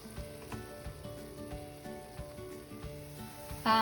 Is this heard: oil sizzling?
yes